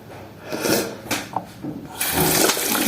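Water running close by during washing, a loud continuous rushing splash with a few bumps and shifts in flow, swelling fuller toward the end; no voices.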